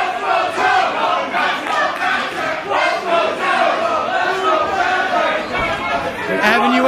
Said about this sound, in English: Listen to the split crowd here.